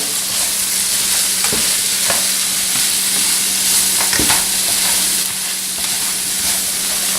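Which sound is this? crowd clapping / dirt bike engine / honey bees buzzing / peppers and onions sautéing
peppers and onions sautéing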